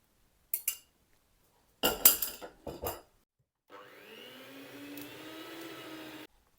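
Electric beater on slow speed whirring steadily as egg yolks are mixed into beaten egg whites for a tea cake batter, a few clinks and knocks of the bowl coming first.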